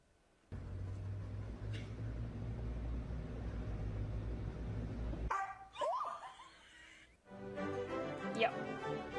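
A dog gives a few sharp barks at close range in a lighthearted household scene, the short bursts standing out after a stretch of steady low background noise, with some laughter-like voices mixed in.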